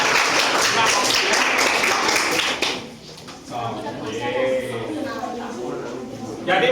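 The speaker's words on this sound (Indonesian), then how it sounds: "tepuk tangan dulu untuk yang kelompok pertama ya" Students in a junior high school classroom at SMP Negeri 1 Sawan clap for the first presenting group in a short, lively burst of applause lasting a few seconds, after which a voice speaks over quieter room sound.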